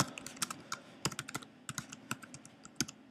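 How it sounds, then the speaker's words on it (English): Fingers type on a computer keyboard in quick, irregular bursts of light clicking keystrokes, quiet and close, with no one talking. "I'm going to type up here"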